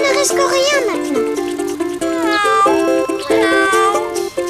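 In a children's cartoon, a cat meows repeatedly at close range, its drawn-out cries mixed with a bright, melodic backing.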